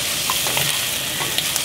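Chinese sausage and vegetables are stir-fried in one big pot, producing a steady close sizzle with a few light scrapes and stirring clicks on top, and no talking.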